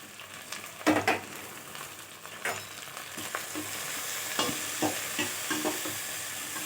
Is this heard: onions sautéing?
yes